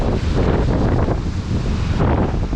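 Strong gusty wind buffets the microphone at the mouth of 16 Mile Creek near Erie, Pennsylvania, a loud continuous low roar with rushing, uneven surges and no voices.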